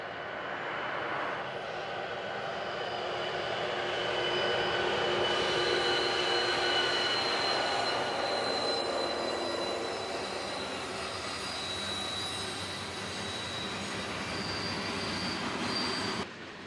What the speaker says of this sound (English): a military train with a BNSF leader headed east